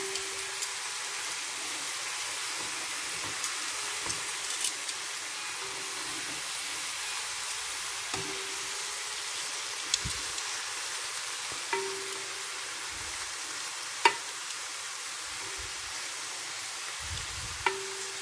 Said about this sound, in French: je vais les faire dorer comme ça,